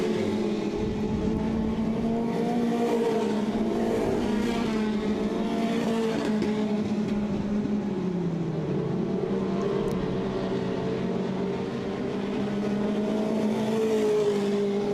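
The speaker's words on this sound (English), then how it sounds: "Marshall Harreger's now jumping up to the rear bumper of the 91 car." Dirt track race cars roar around the Southern Ontario Motor Speedway oval, a steady loud engine drone that rises and falls as the pack passes, with no voices over it.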